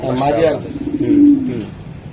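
Low, throaty coos from racing pigeons rolling in a couple of soft phrases, close by, with a voice talking over them.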